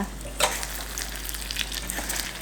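An egg omelette fries in a pot with pork, producing a continuous close sizzle with a sharp stirring clatter near the start and lighter scrapes afterward; no voices.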